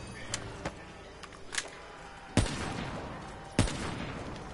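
Sniper rifle shots in a video game ring out as a few sharp cracks, two of them louder with short echoing tails, set against quieter background clatter.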